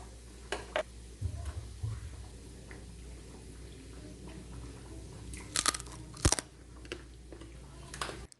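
Crispy Filipino pork belly (bagnet) being sliced with a knife, giving a few sharp crackling crunches, loudest in a cluster near the end, over a quiet room background.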